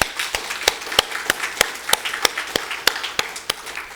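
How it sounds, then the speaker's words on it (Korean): A church congregation gives rhythmic applause, with sharp, evenly spaced claps close to the mic, like a steady clap-along beat running through the whole stretch. "하나님께 영광의 박수 부탁합니다"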